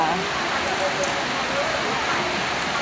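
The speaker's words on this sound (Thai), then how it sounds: "ฝนตกแบบนี้ มีที่หลบฝนแล้วนะ" Steady rain pours down outside a shelter at a house, a dense continuous hiss throughout, with a person talking faintly underneath.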